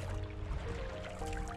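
Waves slosh and lap around a canoe rounding Race Point off Galiano Island on the BC coast, a continuous low watery churn with faint trickles, fairly quiet and steady.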